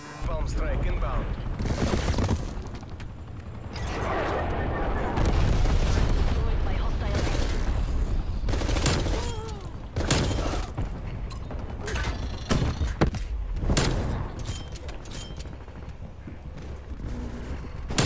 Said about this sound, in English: Bomb strike inbound.